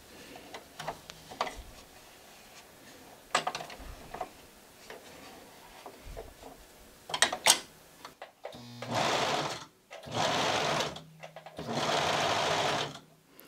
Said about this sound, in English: Now I'm just going to sew up all the curved lines.